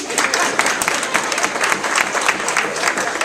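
A room full of people claps at an evening community event, dense continuous applause, loud and close, sustained evenly without a break.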